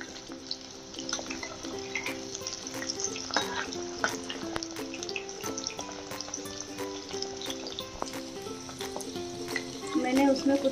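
Chicken pakoras fry in hot oil with a steady, close sizzle and crackle, broken by occasional clinks and stirring scrapes as pieces are turned; a voice speaks faintly in the background.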